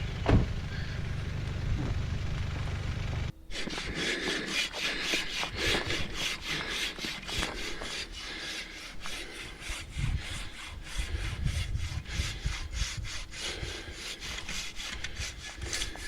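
A Silky Katana Boy hand saw rasps through a fallen tree blocking a track in a fast, steady back-and-forth rhythm, close and loud, with many repeated strokes.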